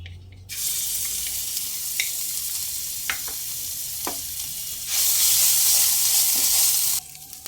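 Loud hot-oil sizzling fills the clip, flaring up sharply as asafoetida and ginger paste are added, with a few light clinks of a utensil.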